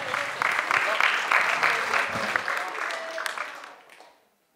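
An audience claps for dancers performing traditional Brač dances at a festival, dense sustained applause that tapers and fades to silence near the end.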